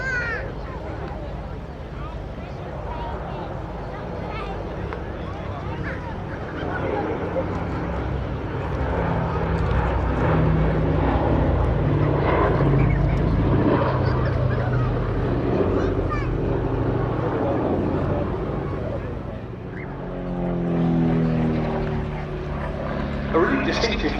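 An SF-260 light propeller aircraft with wingtip fuel tanks flies past at the East Kirkby airshow. Its engine drones loud and steady and swells in the middle as it passes, while a commentator talks over it.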